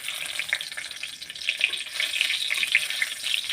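Dry red chillies crackle and sizzle in hot mustard oil in a wok, a steady close bright frying hiss with small popping spurts throughout, no voices.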